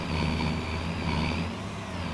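A semi truck hauling a flatbed trailer in Farming Simulator drives with a steady, droning diesel engine rumble, constant and fairly loud, with no voices over it.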